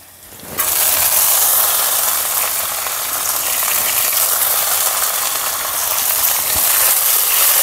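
Soaked moong dal tipped into a hot pan and roasting, giving a steady, close, loud sizzle and crackle that starts abruptly and continues without talk.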